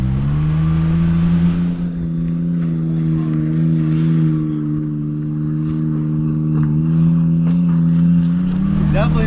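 Suzuki Jimny JA11 engine pulling off-road in four-wheel drive low with hubs locked, a steady close low drone with gentle pitch wavering under occasional bumps and a voice.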